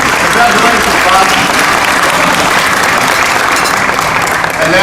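Loud, continuous applause from a large audience at a corporate awards event, many hands clapping in a dense steady wash that holds at one level to the end.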